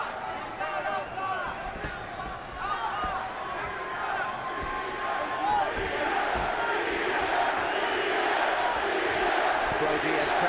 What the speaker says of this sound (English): Diaz crowd trying to get behind their fighter